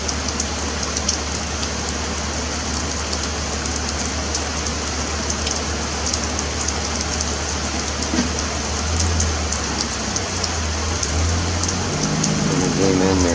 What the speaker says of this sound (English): And believe me, it's a rain.